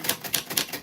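Three crisp, evenly spaced key strikes on a vintage manual typewriter, close and clear.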